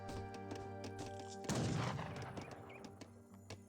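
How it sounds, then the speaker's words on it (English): Gunshots fired at a bear in the strategy game Age of Empires 3, a burst of quick cracks over a steady droning music bed, with scattered game sounds around it. "This bear is being shot."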